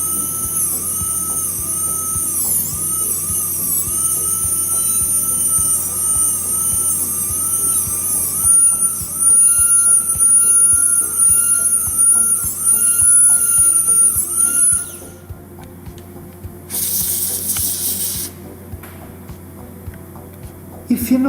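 High-pitched dental drill whine with a 3216 bur cutting a chamfer on a non-centric cusp of a metal-free onlay, steady and close for about fifteen seconds, then cutting off.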